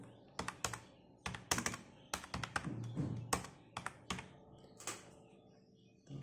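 Fingers type a customer account number on a computer keyboard into a bank CSP portal, irregular bursts of crisp key taps and heavier thunks, close and fairly quiet with a faint voice in the background.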